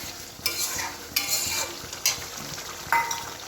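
Popcorn kernels frying in a pressure cooker at home, a steady sizzle with stirring scrapes and a few sharp pops or clinks standing out near, no talking.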